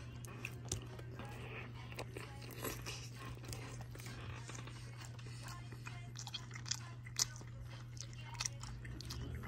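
Quiet crunchy bites and chewing of a Del Taco burger with cheese and Thousand Island sauce, soft repeated mouth sounds over a constant low hum.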